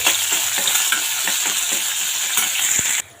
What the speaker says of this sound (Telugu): చూడండి మనకు పోపులన్నీ బాగా వేగిపోయాయి కదా.